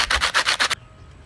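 Coarse sandpaper rubbed over reclaimed wood in about five quick, loud, rhythmic strokes close up, then stopping abruptly into quiet.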